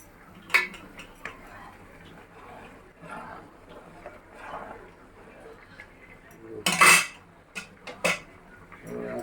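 Food is stirred in a cooking pot in a home kitchen. A utensil scrapes and clinks against the pot in scattered knocks, with a louder clatter near the end and faint background voices.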